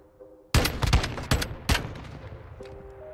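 Rapid gunfire in Call of Duty Modern Warfare during a Search and Destroy match, a burst of several sharp, loud shots fired close together, followed by a fading echo and faint game tones.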